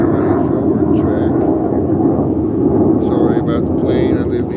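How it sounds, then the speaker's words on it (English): A fixed-wing airplane flies low overhead near an airport, a loud, steady broadband roar that holds at full strength for the whole stretch without fading. "Sorry about the plane. I live near an airport."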